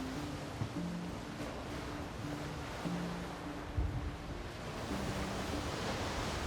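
Continuous roar of ocean surf crashing on rocks nearby in Iceland, a dense wash of crashing water with faint wind and a few brief higher tones beneath.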